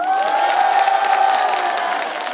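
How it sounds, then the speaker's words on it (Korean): Crowd at an outdoor county-day celebration show for a Miss Trot singer, clapping and cheering together in a brief loud burst, with high voices and a sustained tone riding over the noise. "좋으시면 박수 한 번만 주세요."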